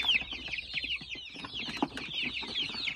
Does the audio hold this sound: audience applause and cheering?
no